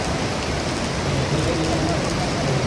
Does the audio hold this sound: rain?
yes